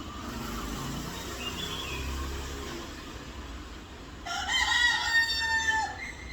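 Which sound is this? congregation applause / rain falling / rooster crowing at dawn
rooster crowing at dawn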